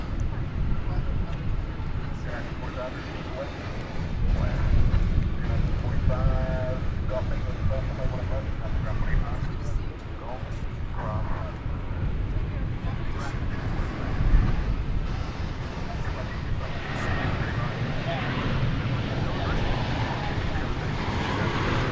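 Jet airliners, including an Airbus A321neo, at DFW Airport at night give a continuous low engine roar and rumble with rising and falling swells, while people talk over it.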